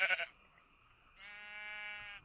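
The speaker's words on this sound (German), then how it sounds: "Und Schafe. Das sind eindeutig Schafe." Sheep in Minecraft bleat: a sharp burst opens, then after a short pause a longer, nasal, wavering baa holds clearly in a quiet scene.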